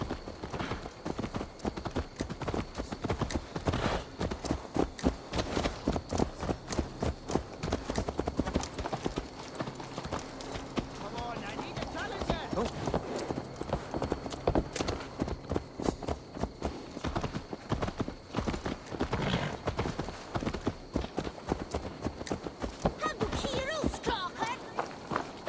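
Rapid, steady hoofbeats of a horse clip-clopping along at a trot in Assassin's Creed Valhalla, continuous and fairly quiet throughout.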